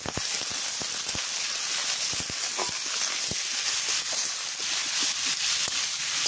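Meat, tomato, onion and potato fry together in a hot pan over a fire, a steady loud sizzle with scattered sharp pops and crackles throughout.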